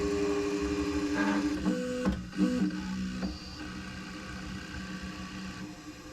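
An Artillery X4 Pro 3D printer runs its auto-leveling routine, giving a steady motor whine broken by a few short stepping whirs and pitch changes near the start, then settling into a quiet continuous hum.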